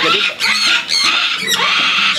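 Blue and gold macaws kept in captivity scream in harsh, raucous bursts, loud and close, several calls overlapping with brief gaps, while a voice speaks briefly at the start.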